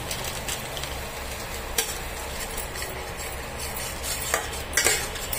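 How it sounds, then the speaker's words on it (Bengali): Spices and cashew nuts fry over low heat for a fish curry, a gentle sizzle under frequent scraping and clinking stirs of a utensil against the pan, with a few sharper knocks. "এবার দেখুন এগুলো সবটাই আমি ভালো করে ভেজে নিচ্ছি।"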